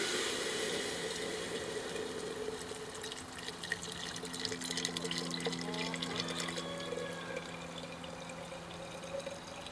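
Water running steadily into a bottle during a seashell calcium preparation, a continuous trickling and gurgling fill with faint tonal ringing, fairly quiet and alone without voices.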